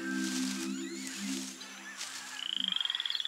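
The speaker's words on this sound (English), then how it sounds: "There's tons of poison dart frogs." Poison dart frogs in a rainforest give a rapid, evenly pulsed trill of croaks near the end, heard faintly after a stretch of soft background music.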